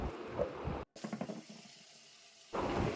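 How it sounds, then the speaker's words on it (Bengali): Taro roots being washed under a running kitchen tap, with water splashing into a sink in a steady close rush, briefly broken off and then resuming, with no voices. "বাকিগুলো ধুয়ে নেব"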